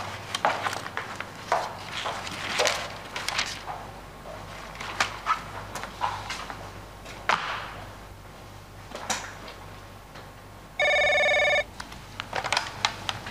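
An office telephone rings once in a short, loud electronic burst near the end, after a stretch of shuffling and handling noises in a quiet room.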